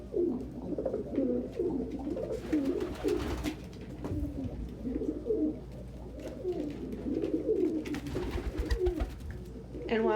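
Pigeons coo in soft, repeated, throaty phrases close by, a continuous murmur of several birds with faint rustling and no clear talk.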